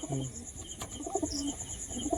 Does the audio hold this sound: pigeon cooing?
yes